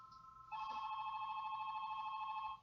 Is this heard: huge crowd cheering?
no